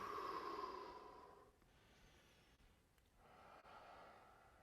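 Slow breathing during a guided body-tension breathing exercise: one audible, fairly strong exhale at the start, then quieter breaths fading in and out, with no talking.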